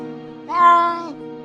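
A cartoon-style cat meows once in a storybook sound effect, a single drawn-out, mid-loud mew rising over a soft background music bed.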